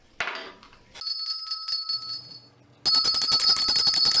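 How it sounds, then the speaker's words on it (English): A bell rings out to open a morning radio show, clear tonal strikes sounding in two bursts, the second louder and more rapid, with a sustained bright ring between them. "Now, where's my bell?"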